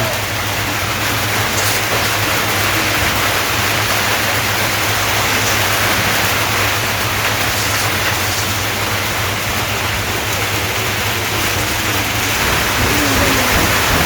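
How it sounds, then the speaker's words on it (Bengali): Heavy raindrops fall outdoors in a village, a steady broadband wash of rain that stays even and fairly loud for the whole stretch, with no talking. "জোরে জোরে ফোঁটা পড়ে।"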